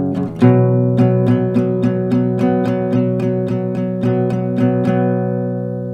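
An acoustic guitar plays a song part with a steady series of strummed chords, one roughly every half second, ringing clearly and loudly on its own.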